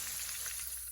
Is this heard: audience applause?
no